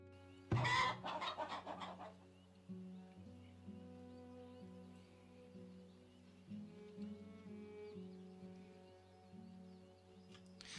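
Chickens cluck and a rooster crows quietly in the village-building game Farthest Frontier. The calls come in soft, scattered bursts, with a louder cluster near the start, over a low, steady in-game background.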